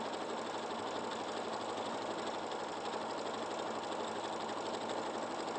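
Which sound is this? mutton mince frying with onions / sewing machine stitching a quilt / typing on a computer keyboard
sewing machine stitching a quilt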